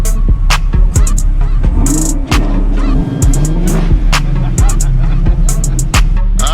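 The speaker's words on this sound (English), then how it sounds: "Give me a rev." A Chevrolet Camaro engine revving loudly up close, with repeated sharp throttle blips and roaring pulls that rise and fall, with brief pauses between bursts.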